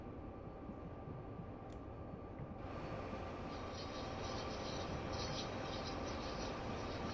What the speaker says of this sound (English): Open the window, get a little bit more in that track noise.